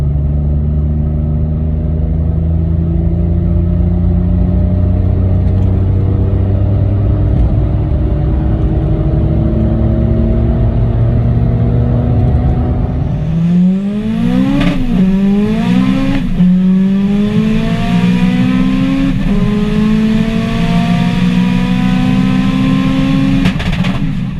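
Car engine pulling steadily at 40 mph in third gear after a Redex fuel system cleaner dose, a loud close droning rumble that rises in pitch through a couple of brief rev changes, with no talking.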